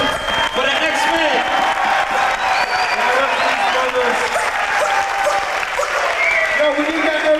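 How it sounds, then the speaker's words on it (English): A crowd at a turntablism DJ battle breaks into sustained applause, dense clapping mixed with cheers and whoops that hold steady throughout, close and loud, with voices shouting inside the noise. "Let's get a nice round of applause"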